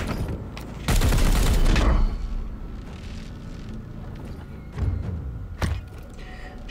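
Gunfire in the Chaos Gate: Daemonhunters video game, a loud dense burst of shots with heavy low thuds lasting about a second, followed by a few scattered sharper impacts over a rumbling battle background.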